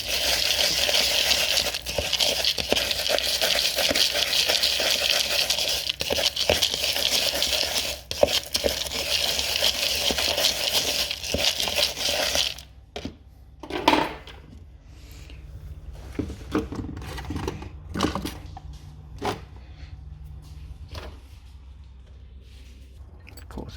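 Pigeon feed seeds and peanuts stirred by hand in a container with a tight lid: steady dense rustling and rattling of grains for about twelve seconds, then quieter scattered clicks and crinkles.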